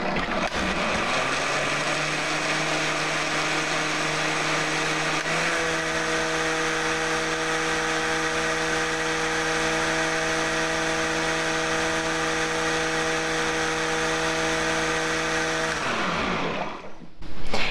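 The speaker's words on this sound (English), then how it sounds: "some sort of blender or food processor" A blender blending flower-petal paper pulp whirs steadily for about fifteen seconds with a strong motor hum and stable tone, then spins down and stops abruptly.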